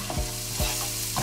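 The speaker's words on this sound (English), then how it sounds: "The garlic is almost beginning to burn" Garlic sizzling in butter in a pan on the stove, a close steady frying hiss with a few soft stirring bumps, no talking.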